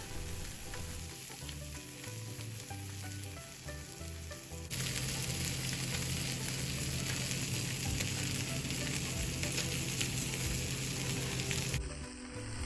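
Trout shallow-fries in a pan over medium-low heat, a steady close sizzle that turns louder and denser partway through and keeps hissing continuously, with no one speaking.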